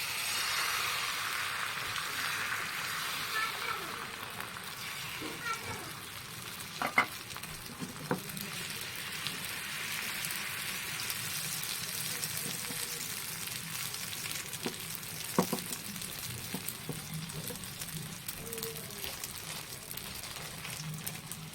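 Egg frying in oil on a flat griddle pan over a home cooking stove, a steady soft sizzle throughout with a few faint clinks and stirring taps, no talking.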